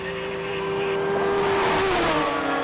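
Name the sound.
race car driving at Simola Hillclimb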